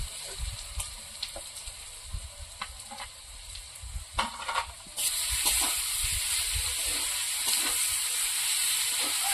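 Garlic and chili paste fry in a pan, giving a steady sizzle with scattered stirring scrapes that swells into a louder, denser hiss partway through.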